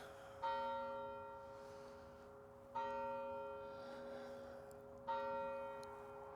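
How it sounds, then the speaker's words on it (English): A church bell chimes three times at a graveyard on a freezing morning around 9 a.m., each strike ringing out with a long fading hum before the next. "When the bell stops chiming"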